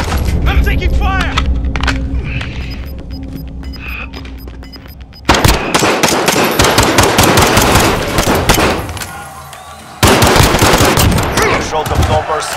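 Automatic and rapid gunfire in the first-person shooter Call of Duty Warzone, loud and dense bursts that keep up almost throughout, with sharp restarts partway through, under some game voice.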